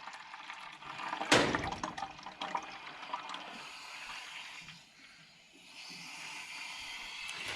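Warm water is poured to top off a container, giving a continuous splashing, trickling stream that is fairly close. It starts with a sharp splash, then settles into steady running water with a brief lull near the end.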